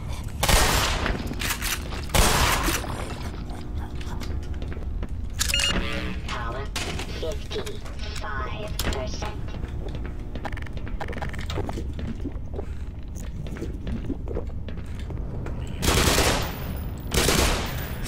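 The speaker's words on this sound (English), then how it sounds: "So many shots and not one of them landed" Rapid bursts of gunfire from Half-Life: Black Mesa, a loud fusillade with sharp individual shots and sustained automatic fire across the whole stretch, with heavier blasts near the start and end.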